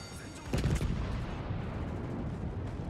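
Naval gunfire in World of Warships, a loud booming salvo of heavy guns early on, trailing into rumbling battle noise, with someone talking over it.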